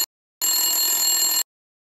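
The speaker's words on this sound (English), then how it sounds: "If we hold this bell tightly with our hand, it stops vibrating and sounds coming from it also stop." An electric bell in a classroom science experiment rings with a continuous metallic trill for about a second, loud and steady, then stops abruptly into silence.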